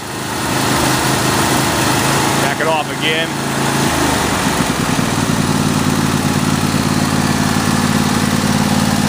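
A John Deere E120 lawn tractor engine runs steadily and loud at idle with the choke applied, its drone continuous through the clip while a person briefly speaks over it.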